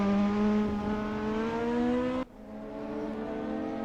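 DTM race cars from the 2020 series practice launch-control starts, a loud sustained engine drone holding a high idle before dropping abruptly and settling into a lower rumble.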